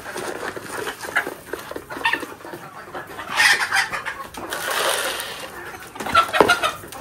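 Native chickens cluck and squabble around feeding pots set apart in several spots, a steady jumble of near clucks with louder bursts midway and toward the end, no talk.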